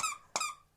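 A squeaky dog toy squeezed twice by a dog playing fetch indoors, two sharp, high, close squeaks in quick succession with near silence around them.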